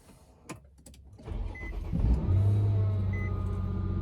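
A 2007 Infiniti G35 sedan cranks briefly and fires up, then settles into a steady, close idle rumble. A couple of soft electronic chimes sound over the engine, and no one speaks.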